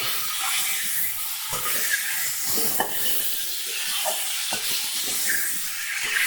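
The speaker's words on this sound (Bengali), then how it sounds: "তো খুব সুন্দর করে দেখো ভাজা করে নিচ্ছি আমি।" Something frying steadily in a pan for a Bengali dish served with rice, roti or paratha, giving a continuous bright hiss and sizzle with occasional stirring scrapes throughout.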